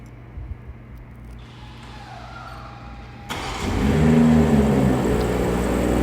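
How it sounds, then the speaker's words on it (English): A 2021 BMW M440i Cabriolet starts by remote, a faint click, then the engine catches with a firm rise into a steady, loud idle that carries to the end. "And the car starts up for you."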